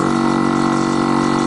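A truck's air brake compressor runs steadily to build air pressure, a continuous, loud mechanical drone with no breaks and no voices.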